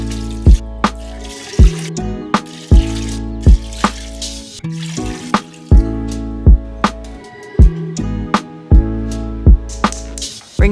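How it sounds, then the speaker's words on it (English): Tap water running into a large stock pot holding chicken pieces, a continuous trickling fill punctuated by repeated sharp knocks and clunks at irregular intervals, close and fairly loud. "put the chicken in a large pot and cover with water"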